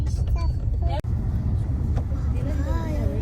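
Car driving along a road on a long trip, heard from inside as a steady low engine and road rumble with people talking over it.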